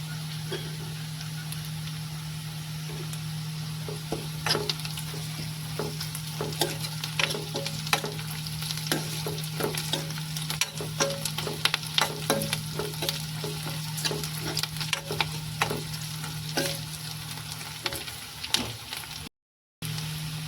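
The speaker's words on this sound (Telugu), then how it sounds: "ఇందులోనే దంచుకున్న వెల్లుల్లి అల్లం కొంచెం అంత అయితే వేస్తున్నాను" Crushed garlic and ginger fry steadily in a pan for a tomato and drumstick curry, a soft continuous sizzle with scattered crackles and occasional stirring scrapes over a low steady hum, no talking.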